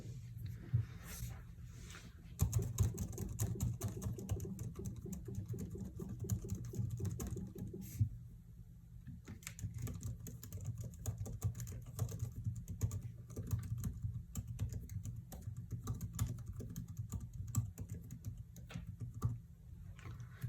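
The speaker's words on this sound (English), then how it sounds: "now let's do a keyboard and trackpad test" Typing on the keyboard of a 2020 MacBook Air, with a steady patter of soft, close key clicks running continuously and a slightly louder, denser stretch early on.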